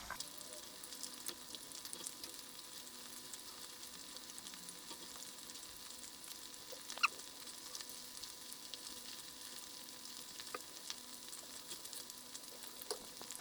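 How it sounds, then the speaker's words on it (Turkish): Steady, quiet sizzle of crispy chicken calamari strips frying in oil, a constant crackling hiss with a few sharper pops, no voices. "Tavuk kalamarlar yavaş yavaş kızarıyor."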